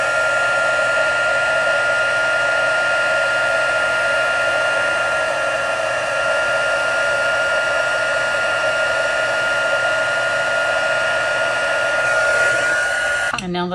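A heat embossing tool blows continuously and loudly at close range, a steady fan-like whir with a faint hum that holds level throughout and cuts off at the very end.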